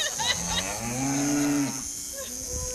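A single cow lets out one long, low, drawn-out moo close by, standing alone with no talking over it.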